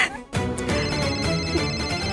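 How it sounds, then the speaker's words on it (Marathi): A phone ringtone sounding indoors in a Marathi TV drama scene, a loud melodic electronic tune with repeating tonal notes that plays continuously and close by, with no speech over it. "फोन वाजतोय कुठे वाजतोय"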